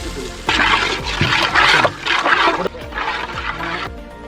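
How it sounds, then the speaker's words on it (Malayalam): Water is poured into a simmering Kerala toddy-shop style fish curry, heard as close, gurgling splashes in several bursts with short pauses between them and no talking. "ഇതിലേക്ക് നമ്മൾ കുറച്ച് വെള്ളം ഒഴിച്ചു കൊടുക്കുകയാണ്."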